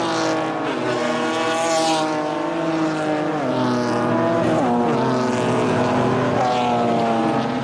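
BMW race cars in a six-lap sprint race roar past as a loud, continuous multi-engine drone, with shifting, rising and falling engine tones as the cars change gear and jostle close by, with no talk.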